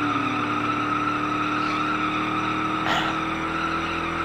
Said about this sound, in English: Yes, I can absolutely do a second gear burnout